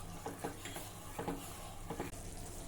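Sugar syrup for rava besan barfi boils in a pan. Faint, soft bubbling sits under a few quiet, rhythmic stirring scrapes against the metal.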